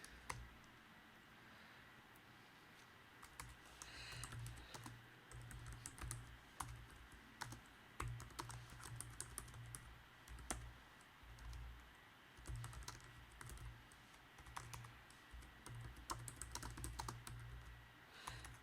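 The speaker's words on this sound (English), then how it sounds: "my typing is bad today." Rapid, uneven typing on a computer keyboard in bursts with short pauses, clicking keys close by and fairly quiet, no talking.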